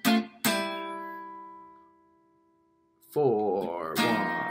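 Guitar riff from a song: two sharp plucked chord stabs ring out and decay, then after a pause a busier run of bent, sliding notes returns with a louder struck chord near the end, played alone and close.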